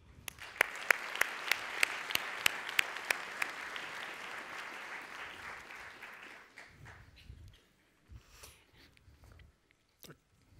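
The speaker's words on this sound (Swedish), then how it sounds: "En varm applåd till nästa talare" A conference audience applauds to welcome speaker Johan Andresen, dense clapping with sharp individual claps standing out, thinning after about six seconds into scattered faint sounds.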